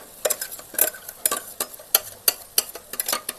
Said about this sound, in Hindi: तेल में छीटा पड़ गया लगा तेल